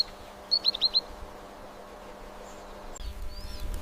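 A yellow sparrow, a small desert bird of the Sahara, gives a quick run of four bright chirps, then a faint, distant call follows amid quiet outdoor ambience and light rustling.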